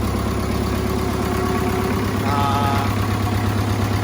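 A diesel tractor rated around 49 PTO horsepower, able to pull a three-bottom plow, runs at a steady idle close by. Its even, continuous rumble with a layered hum persists throughout, with no voices.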